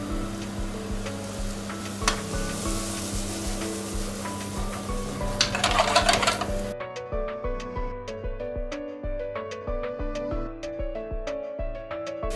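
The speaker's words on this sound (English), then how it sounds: "Add some oil to the large pan. Add chopped onions and red peppers," Chopped onions and red peppers sizzle in oil in a large pan while being stirred, with a steady hiss and a few scraping strokes for about seven seconds, then the frying cuts off and soft music carries on.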